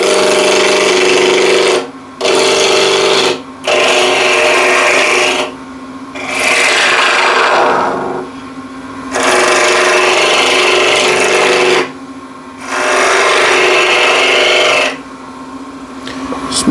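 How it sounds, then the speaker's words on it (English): A spindle gouge cuts cross-grain yew on a spinning wood lathe, giving loud rasping, hissing passes that repeat in several long strokes separated by short pauses, with a low motor hum underneath. "spindle gouge."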